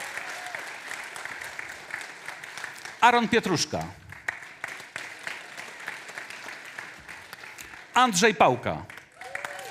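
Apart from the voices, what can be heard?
audience applause for candidates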